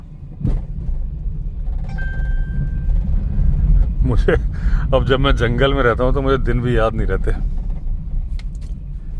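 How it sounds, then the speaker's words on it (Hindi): Steady rumble of passing vehicles on a busy forest road in a tiger reserve, a continuous drone under someone talking, with a brief tonal whine early on. "आज बहुत ज़्यादा रश है गाड़ियों का"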